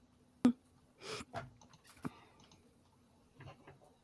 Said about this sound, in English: someone's typing is really loud. Sorry. My mechanical keyboard.